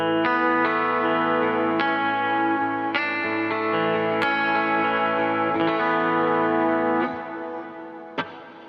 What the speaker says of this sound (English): That's some really, really nice wide reverb.